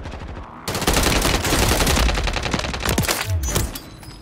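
Rapid automatic gunfire in the Warzone battle royale game from an SVA assault rifle and AK loadout, loud sustained bursts with a few sharper single shots near the end, no talking.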